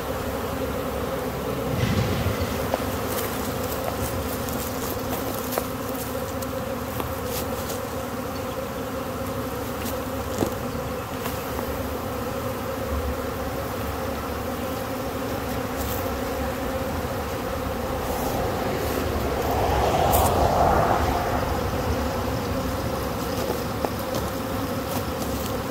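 A honeybee swarm being caught by a beekeeper hums steadily throughout, a dense continuous drone with a brief swell of louder buzzing near the end.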